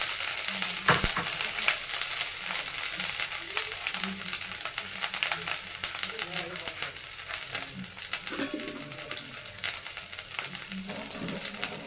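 Red chillies and ginger paste frying in hot oil for a Bengali veg echor kalia (jackfruit curry), a loud, steady close-up sizzle with crackling and occasional stirring scrapes throughout.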